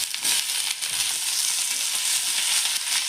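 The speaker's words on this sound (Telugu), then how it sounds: "ఇప్పుడు మనం బంగాళదుంపలు వేసుకుందాం" Chopped potatoes and onions fry in a pan for a curry of fresh green peas and potato, giving a steady, close, loud sizzle throughout with no talking.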